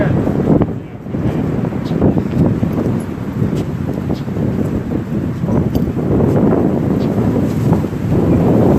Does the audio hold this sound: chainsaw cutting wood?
no